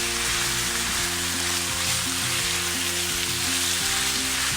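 Chicken pieces browning with onions in a pan of oil for a chicken biryani give a steady, close sizzle that holds even throughout, with no talk over it.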